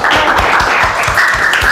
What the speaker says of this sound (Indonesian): terima kasih Aska, tepuk tangan